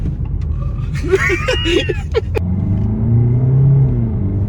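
A 2020 Peugeot 3008 SUV engine rises to a strong, sustained rev toward 6000 rpm with a deep rumbling drone, following a moment of speech over the idling motor.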